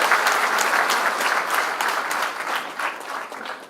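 An audience at a ceremony honouring Prime Minister Narendra Modi claps loudly and continuously, a dense close wash of applause with no voices standing out.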